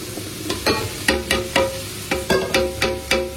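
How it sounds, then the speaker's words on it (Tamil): Capsicum, beans and carrot sauté in a pan under a soft sizzle, with a spatula scraping through the vegetables in regular strokes about every half second, close up and with no talking. "வதங்கிட்டு இருக்கு கேப்சிகம்."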